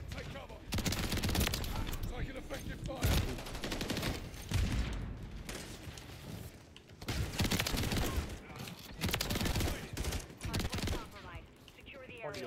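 Shotgun blasts and gunfire in a Call of Duty Hardpoint match, a dense run of loud broadband shots and action noise filling most of the stretch, with brief lulls between bursts.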